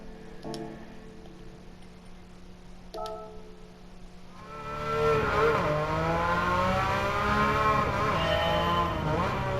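A Porsche 911 in Gran Turismo 7, idling with a couple of clicks before the engine revs up into a sustained, rising and falling drone as it drives off.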